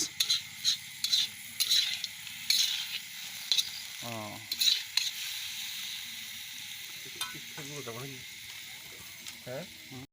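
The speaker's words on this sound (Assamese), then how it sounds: "মাংসৰ আগতে তেলৰ লগত পিঁয়াজ দিছে, এতিয়া মাংসখিনি ভাজি" Steady sizzle of meat frying in oil with onion runs throughout, broken by short clinks and scraping from stirring, with occasional brief voices in the background.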